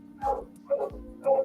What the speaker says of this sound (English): It's a female dog.